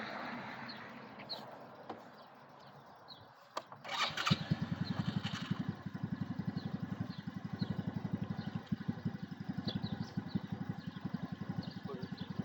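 A Coolster mini jeep's small engine cranks briefly, catches and settles into a close, steady putter after a few seconds of low background noise.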